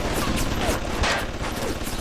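Turrets in the Bioshock video game fire a rapid, loud, dense burst of gunfire that runs for about two seconds with no pause.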